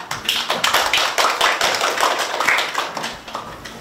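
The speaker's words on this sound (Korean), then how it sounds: "박수 부탁드립니다" Applause from an event audience at a university library reading club presentation, welcoming the library director: a steady wash of many hands clapping, fairly close and dense, sustained without voices.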